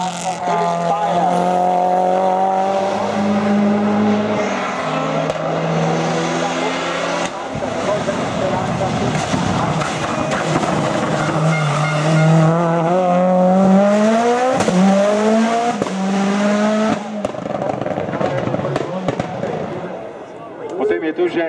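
Race cars at a hill climb in Ilirska Bistrica, including an Audi and a Ford Escort, roar past one after another. Loud engines rise and fall through the gears beside the course, with a commentator talking over them throughout.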